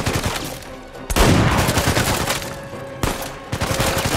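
Sustained machine gun fire in the video game Uncharted 4, loud, close and rapid, with a sharp fresh burst near the middle and continuous crackling throughout, no speech.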